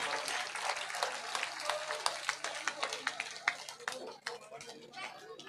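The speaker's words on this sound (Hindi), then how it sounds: "भाई तालियों की कंजूसी ना करें," A crowd at a Haryana election gathering claps in an uneven rhythm. Sharp individual claps stand out over background chatter, and the clapping thins and fades toward the end.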